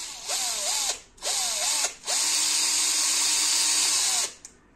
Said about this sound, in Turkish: Şu şekilde şöyle bir delik açmam lazım.